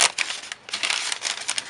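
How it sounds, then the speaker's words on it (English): A plastic zipper bag being handled up close, giving a steady crinkly rustle with a brief pause partway through. "I've got a zipper bag"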